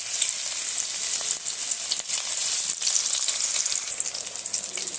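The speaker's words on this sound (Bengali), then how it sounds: "এবার আমি মাছগুলো একে একে দিয়ে মাছগুলো সুন্দর করে লাল লাল করে ভেজে নেব।" Pieces of rui fish frying in hot oil give a loud, close, continuous hiss and crackle that holds steady throughout with slight fluctuations, and no one speaks.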